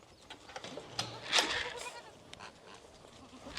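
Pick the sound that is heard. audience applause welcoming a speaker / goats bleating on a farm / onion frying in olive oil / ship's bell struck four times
goats bleating on a farm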